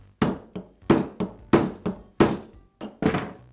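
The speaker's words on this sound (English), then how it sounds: "I'll insert the taper into the chuck and secure it with a rubber mallet" A series of sharp, solid knocks, about eight irregular taps from a rubber mallet seating a chuck onto its taper on a Jet drill press, close and fairly loud.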